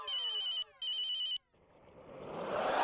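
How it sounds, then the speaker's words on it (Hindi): A landline-style telephone rings in two loud electronic bursts, then stops and gives way to a rising rush of noise. "बॉस का फोन है।"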